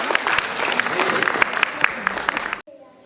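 A close, lively crowd at a children's day event claps in dense, bright applause that holds steady and then cuts off abruptly, followed by a brief moment of speech.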